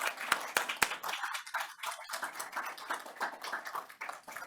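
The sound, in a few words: audience clapping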